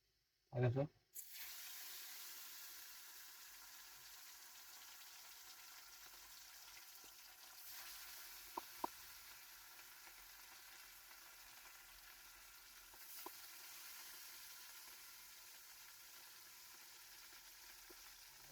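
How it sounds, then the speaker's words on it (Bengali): Katla fish fries in a pan with a loud, continuous hiss of hot oil that holds steady for many seconds after a short burst of noise at the start, marked by a few faint clinks. "এখন আমি মাছটা ফ্রাই করে নিব"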